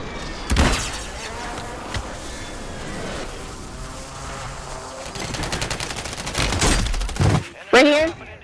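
Rapid bursts of gunfire in a shooter video game, with sharp shots and fusillade-like volleys scattered across the clip over constant game background noise; a voice briefly sounds near the end.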